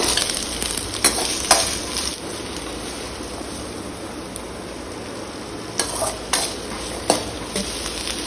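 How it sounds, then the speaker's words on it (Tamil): Sliced big onions, added after garlic cloves, sautéing in a pan for a traditional fish curry: a steady close sizzle with occasional scrapes and clinks of a spoon stirring against the metal. "பெரிய வெங்காயம் 2 அரிஞ்சு வச்சுருக்கேன், அதையும் போட்டு வணக்கலாம்."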